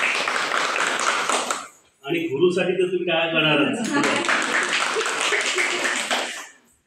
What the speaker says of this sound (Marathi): त्यांच्याही टाळ्या होऊन जातो